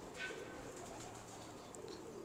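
Pigeons coo softly in a quiet, low-level drone, a faint continuous murmur of several birds with a couple of brief higher chirps.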